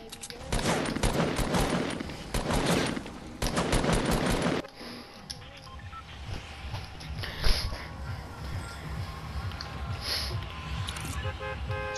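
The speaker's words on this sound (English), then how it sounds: "spam with the pistol?" Rapid burst of pistol fire spammed in the Fortnite video game, dense repeated shots across the first few seconds, then quieter game ambience with faint distant sounds.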